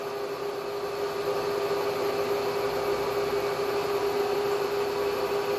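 A Bridgeport J head milling machine boring a hole, giving a steady, moderately quiet mechanical hum with a constant tone and broadband whir, unbroken and with no talking.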